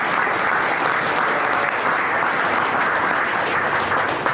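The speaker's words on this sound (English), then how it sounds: "I just want to give them a round of applause." An audience at a Minnesota economic partnership event gives campaign staff a round of applause, a loud, dense and sustained burst of clapping from a crowd, continuous and full for the whole stretch.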